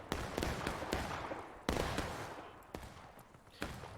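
Cannons fire in the Generals At War video game during a 100-player European event battle: a string of loud, sharp booming shots at irregular intervals, each trailing off into a rumbling wash of battle noise, with no talking.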